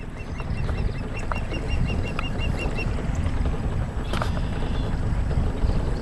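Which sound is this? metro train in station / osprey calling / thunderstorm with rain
osprey calling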